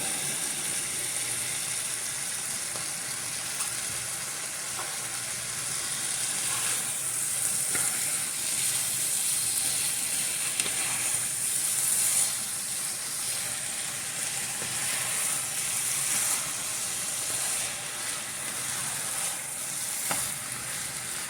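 Sauerkraut and sausage sizzle steadily in a skillet, seasoned with Vegeta, sugar and pepper, a continuous close frying hiss with occasional faint stirring scrapes and no talking.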